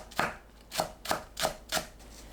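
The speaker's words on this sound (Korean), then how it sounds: "파를 작게 썰어주세요." A knife chops green onions on a cutting board with five crisp, close strokes at a quick, even pace, and no talking.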